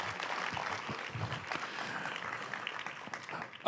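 Audience applause at a 2025 Inland Port Symposium community event: a steady wash of many hands clapping for several seconds, moderately loud and even throughout.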